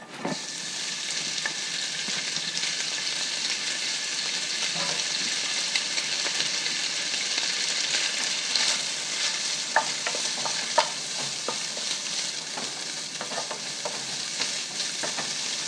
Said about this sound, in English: put another teaspoon of oil in the pan. Now cook the ham.